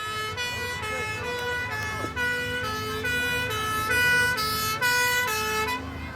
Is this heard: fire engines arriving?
yes